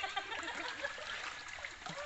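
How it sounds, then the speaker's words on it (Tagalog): Small stream in Bulacan, steady trickling and gurgling water running continuously, close and moderately loud with no clear talk over it. "Ilog na maliit sa Bulacan."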